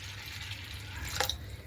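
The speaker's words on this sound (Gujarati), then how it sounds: "હવે સાબુદાણાને આપણે અંદર પાણી એડ કરી દઈશું, પલાળવાના છે એટલે" Tap water runs into a bowl of washed sago pearls to soak them, a steady close trickle ending in a brief louder splash.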